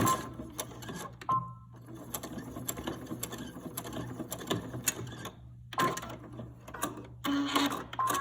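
A sewing machine back-stitches across the ribbon end of a fabric face mask, giving a steady mechanical whir and rapid needle clatter that runs for several seconds, briefly pauses, then resumes alone at close range.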